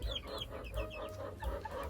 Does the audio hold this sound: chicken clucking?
yes